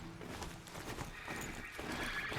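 Horse in the video game Horizon Zero Dawn, hooves clip-clopping with a neigh, moderately faint over game ambience.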